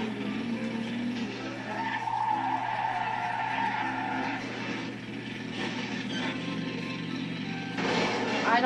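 Car engine droning with tire skids in Banjo-Kazooie: Nuts & Bolts, a steady game-audio mix that holds at even loudness throughout, with a brighter squeal swelling near the end.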